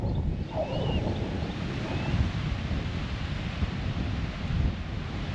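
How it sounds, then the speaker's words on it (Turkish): Steady wind buffeting the microphone on a beach at Çilingoz Nature Park, Turkey, over the constant wash of surf breaking on the shore, with a faint bird call in the distance. "Bugün biraz dalgalı, rüzgar var."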